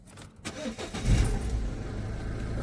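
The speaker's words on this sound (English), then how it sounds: "Start up the engine." Peugeot Partner / Citroen Berlingo van engine cranking and catching, a brief starter whirr followed by the engine firing into a steady low idle rumble, close by.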